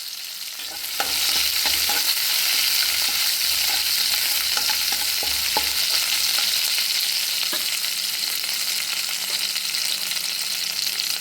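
Mustard seeds, garlic and dried chillies frying in hot oil as a tempering for aloo sukka, a dense continuous sizzle with scattered sharp pops and crackles, close and steady throughout.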